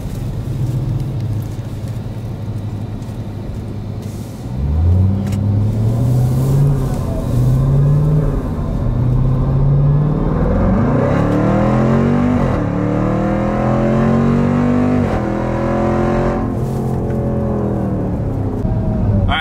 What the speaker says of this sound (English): now we've got eco mode turned off, so we're in the 707 horsepower all-wheel drive.